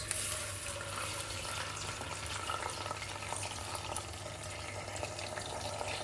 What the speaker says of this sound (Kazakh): Күрішті тек сәл ғана отқа шарпып, тұзын салып қуырып аламыз.